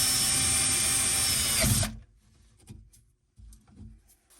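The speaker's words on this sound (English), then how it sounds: "mark a hole right on the side here as our spot to drill with our 1/4-inch drill bit" A power drill with a 1/4-inch bit whirs loudly at high speed for nearly two seconds while drilling a hole to install a tankless reverse-osmosis system, then stops abruptly, followed by a few faint knocks and handling sounds.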